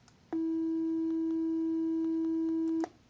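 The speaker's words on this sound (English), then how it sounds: "What if I generate pure tone of 325 hertz? Generate tone 325 hertz." A generated pure sine tone at 325 hertz, a single steady electronic hum that starts abruptly, holds at constant loudness for about two and a half seconds and cuts off cleanly.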